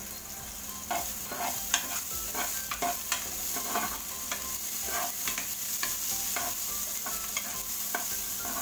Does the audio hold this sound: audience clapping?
no